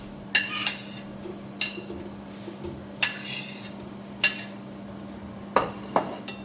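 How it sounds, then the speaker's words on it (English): Chopped onions frying in cooking oil are stirred with a utensil, giving scattered clinks and scrapes against the pan every second or so over a steady low hum, close and fairly quiet. "we keep stirring it till the onions become golden brown"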